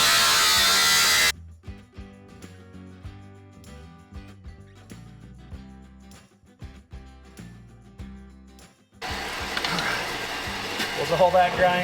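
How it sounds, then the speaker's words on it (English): Angle grinder trimming metal on a wood truck, a loud harsh burst of grinding at the start and another long one at the end, with quieter clattering work sounds in between. "Do a little bit of grinding."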